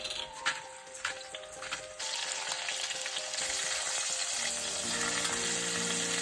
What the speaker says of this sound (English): Begin by searing our lamb.